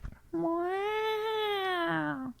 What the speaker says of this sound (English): Stick with the Track 2 is cats.